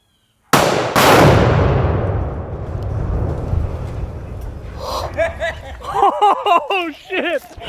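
Forty pounds of tannerite detonates under a Toyota Camry about 130 yards off, a sharp double boom followed by a long rolling rumble and debris noise; excited voices break out over the fading roar near the end.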